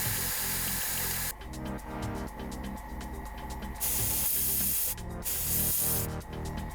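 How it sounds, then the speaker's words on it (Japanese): A Tamiya airbrush being back-flushed for cleaning gives loud hissing bursts of spray, several on-off blasts of varying length close up, over a low steady compressor hum. "タミヤのエアブラシの場合、ここの部分を緩めるだけで簡単にうがい洗浄が可能。"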